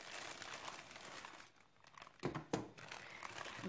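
Plastic wrap peeled off the side of a chilled gluten-free tart, a steady run of close crinkling with two sharper crackling tears near the end.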